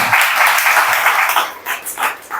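A church congregation claps in praise to God during a sermon, a dense burst of clapping that thins into a few scattered, fading claps.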